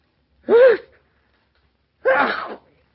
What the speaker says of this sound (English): Have you been sneezing all day?